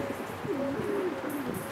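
Pigeon cooing while being handled, a close soft rolling coo rising and falling over a steady background hiss.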